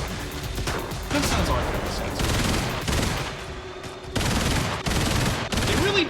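A big cannon in the mech game Brigador fires in loud, heavy repeated bursts with short gaps between volleys, while someone talks over the barrage.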